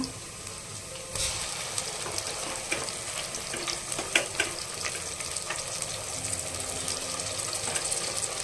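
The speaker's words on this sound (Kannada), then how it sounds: "ಸ್ವಲ್ಪ ಚೆನ್ನಾಗಿ ಫ್ರೈ ಆಗುತ್ತೆ." Ginger garlic paste fries in a pan for mushroom kurma, giving a steady close sizzle with scattered crackles and pops and occasional stirring scrapes, with no talking.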